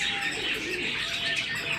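A male cockatiel gives soft cooing and chirping calls that carry on steadily over a constant background hiss, with no talking heard.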